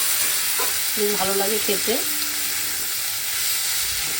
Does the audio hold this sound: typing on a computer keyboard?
no